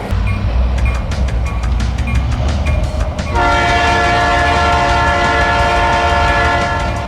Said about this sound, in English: All aboard the Christmas train!